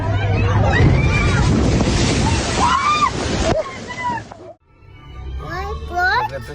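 Violent ocean waves slosh and crash against a whale watching boat off Virginia Beach, a loud, turbulent wash with wind buffeting the microphone, a brief lull, then more churning water as excited voices shout over it.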